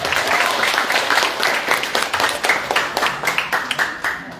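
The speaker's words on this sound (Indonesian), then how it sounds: "Tepuk tangan buat kita semua." Audience applause at an indoor health talk, a loud, dense burst of many hands clapping that thins into more distinct, rhythmic claps toward the end.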